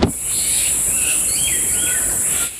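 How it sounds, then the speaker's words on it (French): Birdsong in a preserved forest on Mayotte: a few thin, gliding whistled calls ring out over a steady high insect or cicada drone and low ambient rumble, with no voices. "Le chant des oiseaux et le vert des arbres"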